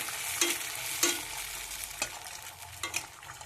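Powa pitha, a puffy fried rice-flour cake, sizzling in hot oil with a soft continuous crackle and several sharp spatula taps and stirs scattered across a few seconds, close and fairly quiet, no voices.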